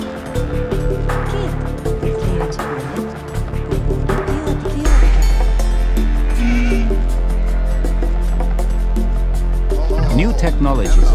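Sheep bleating in Age of Empires II, a few short bleats rising over dense game music and ambient sound effects, with a narrating voice speaking throughout.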